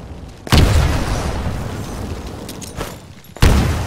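Two booming grenade blasts in the Titanfall video game tutorial, each a sharp loud burst followed by a long rumbling tail, the second arriving about three seconds after the first.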